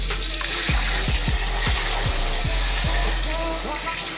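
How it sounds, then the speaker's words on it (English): Tap water runs over a Nama J3 juicer part being rinsed, a steady close rushing hiss broken by a series of soft thumping splashes as the piece is moved under the stream. "We're just gonna rinse it out here. Put some water."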